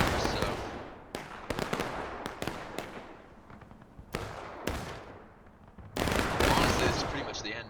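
Musket and rifle volleys in a Civil War battle game match at a cornfield, sharp cracks and ragged fusillades in clusters, some near and loud, others more distant.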